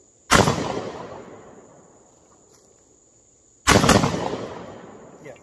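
Two loud 12-gauge blasts from a GForce Arms GF99 shotgun fired from the hip, each a sharp crack trailing into a long echoing decay, spaced about three seconds apart with a steady high whine in the background.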